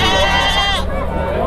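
Goats bleat loudly at a goat and sheep market in Campina Grande, a close, sustained wavering cry that breaks off partway, with crowd noise and voices behind it.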